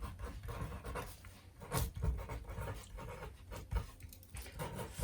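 A pen scratches out labels on a paper pattern for a straight skirt, close, soft scribbling strokes with brief pauses and rustling of paper, no talking.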